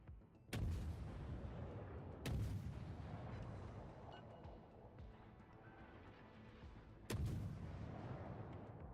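Warship main guns fire in World of Warships at point blank range, three sharp heavy booms spaced across a continuous rumbling battle background, loud against the bed.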